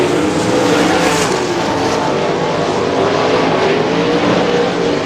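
410 sprint cars running on a dirt track, a loud, continuous, close engine roar with steady harmonic drone throughout, no voices heard over it.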